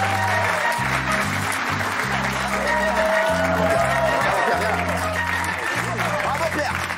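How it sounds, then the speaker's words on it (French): An audience applauds a performer with continuous broadband clapping over a rhythmic low musical beat, with some crowd noise mixed in. "Applaudissements pour Pierrot."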